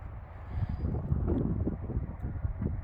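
Low, rumbling wind buffeting the microphone, steady and blustery for a few seconds with no voices.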